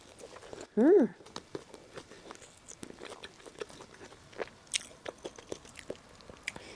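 Someone bites and chews soft, chewy unheated bread up close, with a sharp bite at the start and then quiet repeated chewing and mouth sounds.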